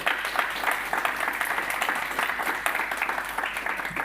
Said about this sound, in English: A round of applause for Cornelia, please